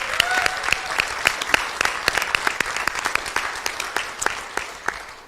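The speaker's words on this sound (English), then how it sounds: "Let's give them a round of applause." Applause breaks out at a live basketball championship event honouring a past national title team, with sharp individual claps ringing out in a sparse, uneven patter from a modest crowd in a large hall.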